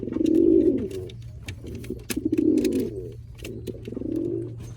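A breeding pair of pigeons coos up close, with repeated rolling, throaty coos in a steady rhythm and faint rustling between calls.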